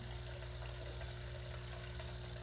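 Cold water runs through a distillation condensing column with a constant, even rushing flow and a faint steady mechanical hum beneath it, unchanging throughout.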